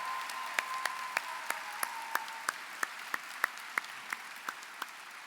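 Applause at a high school commencement ceremony for the teacher of the year, distinct sharp claps in a steady slow rhythm over a thin crowd murmur, sounding like sparse clapping in a large hall.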